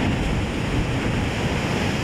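Ocean surf crashes steadily along the rocky coastline at Yachats on the Oregon coast, a continuous loud roar of breaking waves with wind rushing across the microphone and no voices.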